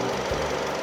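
A Renault Samsung SM5 engine idles with the air conditioner on, a smooth, steady hum dominated by the fan's broad whoosh, close up and unchanging with no speech.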